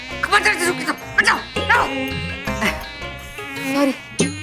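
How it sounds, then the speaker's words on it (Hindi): A mosquito buzzes in a high, wavering drone amid a busy indoor scene, mixed with people talking and yip-like noises. "अरे अरे ये मच्छर, ये मच्छर क्या कर रही है?"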